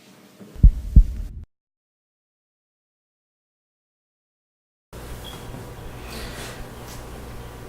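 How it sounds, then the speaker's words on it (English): A heartbeat sound effect gives two deep, close thumps in quick succession, then drops to silence before a low murmuring room tone returns. "we've got a heartbeat."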